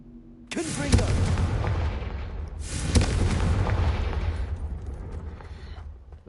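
Confringo fire spell in Hogwarts Legacy bursting in two booming blasts with a crackling, rumbling tail, loud and close, the second blast following about two seconds after the first.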